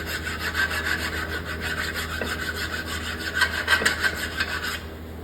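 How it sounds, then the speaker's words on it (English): Hand file rasping rust off the rear brake caliper bracket of a 2012-2017 Toyota Camry, a rhythmic series of close, gritty back-and-forth strokes repeated steadily throughout. "I'll file that down."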